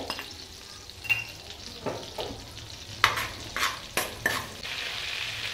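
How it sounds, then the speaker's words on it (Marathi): Cumin seeds sizzle in butter and oil in a pan for pav bhaji, a steady crackling fry punctuated by several sharp pops and short spatters. "आता मी जिरे टाकते"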